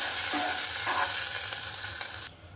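Ground spices stirred into frying onions in a pan with a little water, a steady soft sizzle running throughout, with a brief clatter of stirring midway before the sizzle drops away near the end.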